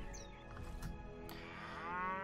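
Cattle moo in the medieval video game Mount & Blade, giving a long, drawn-out low moo that swells toward the end. It sounds close and loud over faint in-game ambience, with no talking.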